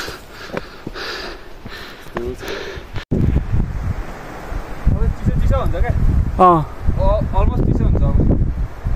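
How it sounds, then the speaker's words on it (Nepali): Strong wind blowing across a hiking trail near Bethanchowk, a steady roaring rush much like a waterfall that keeps going the whole time, with several people talking over it. "आवाज सुन्दा चाहिँ ठ्याक्कै त्यो झर्नाको आवाज जस्तो आइरहेको छ तर पुरै हावा हो"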